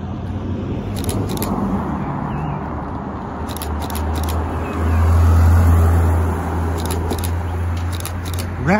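A Porsche 911 R drives past on a street in Alderley Edge, its engine a low rumble that swells briefly midway, amid background traffic and occasional sharp clicks.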